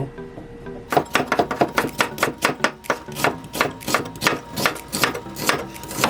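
An onion is chopped on a cutting board for janchi guksu, a quick run of sharp, evenly spaced knife knocks going on for several seconds, close and clear with no talk.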